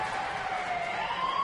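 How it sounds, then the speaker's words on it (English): A stadium siren sounds at a Houston Astros home game against Pittsburgh after a stolen base. It is a steady, slightly rising tone held for the whole moment, over a constant roar of crowd noise. "They stole a base and the siren goes off"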